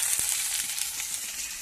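Potato and pumpkin pieces fry in a pan of oil, giving a steady, close sizzling hiss with brief crackles throughout, no voices.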